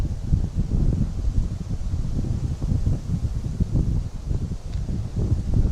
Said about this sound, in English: This wind today, it's good, so good.